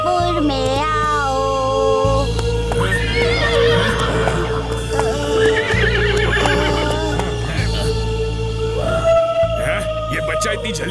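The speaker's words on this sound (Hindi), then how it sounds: "आओ आओ घोड़े, ढोलकपुर में आओ।" Cartoon horses whinny loudly in a Hindi children's animation, long wavering neighs over a busy, continuous soundtrack, with a voice talking in between.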